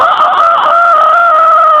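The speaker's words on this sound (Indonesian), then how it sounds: "Kadang-kadang ayam jam 10 malam kukuruyuk" A rooster crows late at night in an Indonesian setting: one sustained, loud, steady call with a strained, nasal tone that holds for nearly two seconds, close and clear with no talking over it.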